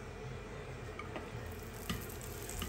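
Sfenj dough frying and puffing in hot oil in a pan, with a continuous close sizzle and a few small pops and crackles scattered through it.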